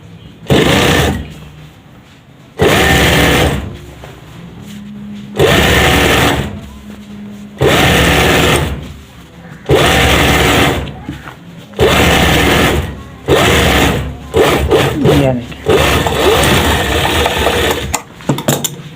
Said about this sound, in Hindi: इसी तरीके के एक पोंचे के ऊपर दूसरा पोंचा रख के सेम पैमाइश से आपने सिलाई दूसरी भी लगा लेनी है